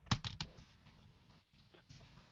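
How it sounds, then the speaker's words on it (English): Fingers type on a computer keyboard in a short quiet burst of clicks, several quick taps up front and then scattered fainter keystrokes. "I want you to listen to this and tell me what I'm typing."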